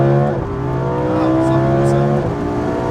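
A Lamborghini Huracan engine revving and accelerating from inside the car, a loud sustained drone that climbs in pitch, drops briefly with a gear change, then climbs again.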